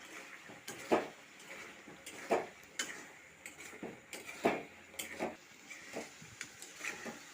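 A spoon works through sticky, sugary grape pickle in a pan, making a steady series of soft scrapes and light clinks against the metal about once a second, close and fairly quiet.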